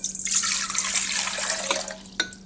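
Water pours steadily into the bowl of a bread machine, a bright splashing trickle lasting a couple of seconds before tapering off with a final drip.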